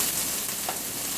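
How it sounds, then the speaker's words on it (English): Cooked rice frying in a preheated pan, a steady, dense sizzle that carries on evenly and close up throughout, with no talking. "I'm just going to throw the rice in there. You hear it frying."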